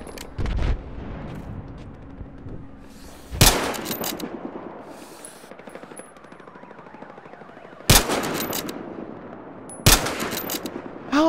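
Gunfire from a weapon in the Battlefield: Hardline multiplayer game, with several loud, sharp bursts of shots spaced across the stretch and quieter combat noise in between.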